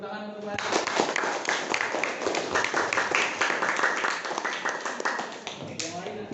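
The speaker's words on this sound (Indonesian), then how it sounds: "Boleh tepuk tangan untuk Mbak" A classroom audience claps for a student presenter, a burst of brisk, dense handclapping that starts abruptly and carries on steadily for several seconds, fairly close and moderately loud.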